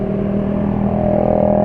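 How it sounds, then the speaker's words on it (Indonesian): A motorcycle engine idles close by with a steady, rough, rattling drone and no pauses. "Itu suara motor barusan itu berisik ya."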